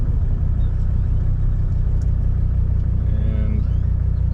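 Steady low idle rumble from a 1985 Mercedes 300D diesel engine with a glass pack exhaust, continuous and even at close range with no talking.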